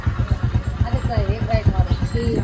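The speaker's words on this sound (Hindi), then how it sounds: "चला रही है बाइक" A motorcycle carries riders through a village near Shirur, Pune, in Maharashtra, its engine thumping in a steady rapid pulse while voices talk over the ride.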